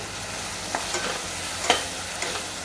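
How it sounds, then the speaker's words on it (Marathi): A paste of tomato, ginger, garlic and coriander frying in oil for a rajma gravy, giving a continuous close sizzle with a few soft stirring clicks and scrapes. "ती सगळी पेस्ट ह्याच्यामध्ये टाकून घ्यायची ती सुद्धा छान तेल सुटेपर्यंत आपल्याला भाजून घ्यायची आहे"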